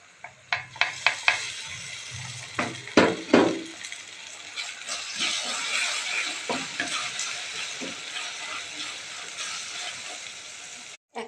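Mustard seeds sizzling and spattering in hot oil for a chili pickle made with rooftop-garden chilies, opening with a few sharp stirring clatters against the pan, then a steady, moderately loud hiss that runs on until it cuts off at the end.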